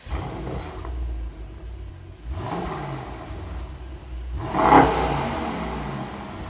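A powerful Mercedes-AMG GT 63 S engine roars through several revs, swelling and dropping, with the loudest blip near the end.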